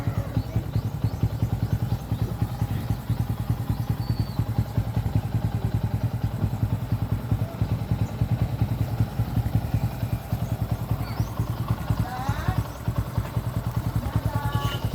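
Carbureted Suzuki Raider 150 motorcycle engine idling nearby with a steady, dense, rapid low putter and mechanical clatter that runs unbroken for the whole stretch, with no talk over it.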